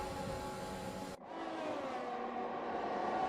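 An F1 race car in F1 2021 at the Brazil circuit, its engine note dropping sharply as it enters the pit lane, then a steady whining drone, close and moderately loud with no talk.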